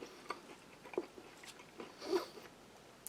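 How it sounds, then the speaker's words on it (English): Biting into a sweet, crunchy, crispy dried fruit snack from a Norwegian Arctic field ration, with a few short close crunches and chewing sounds spread across a quiet background. "took a big bite. Nice, enjoyable, crunchy, crispy fruit snack"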